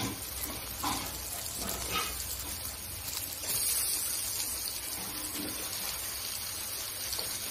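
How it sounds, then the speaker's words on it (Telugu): Fish pieces dropped into hot oil in a pan for a fish curry, giving a steady, moderately loud sizzle and bubbling frying noise that runs throughout with small stirring shifts. "ఇప్పుడు చేప ముక్కలు అనేది వేసేసుకుందాం"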